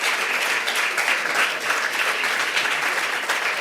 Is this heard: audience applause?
yes